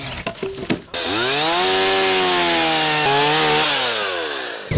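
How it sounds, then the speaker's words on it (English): A chainsaw revs up after a few short knocks and cuts a chunk off a big, partly cracked wood log, its loud, steady whine close by and bending in pitch as the blade loads in the wood. "I think I'm just gonna get the chainsaw and cut a little chunk off of one of the big ones."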